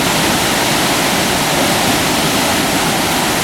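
Steady, loud roar of the waterfall at Devil's Den in Arkansas, a dense, unbroken rush of falling water close by that stays constant throughout with no voices.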